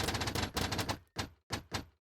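A tower in a rapid-fire video game fires fast bursts, a dense rattling volley followed by three short, sharp bursts with brief gaps between them, close and fairly quiet.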